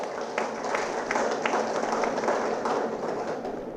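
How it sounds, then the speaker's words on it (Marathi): An audience at a lecture on science, technology and Gandhian thought applauding, a dense, steady wash of many hands clapping at moderate distance for several seconds with no voices. "त्याबद्दल आपण सर्वांनी टाळ्या वाजवून त्यांचं कौतुक केलं पाहिजे."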